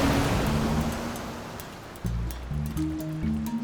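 Ocean waves break and wash at the water's edge, a broad hissing surf that fades and then surges again midway, with faint tonal music underneath.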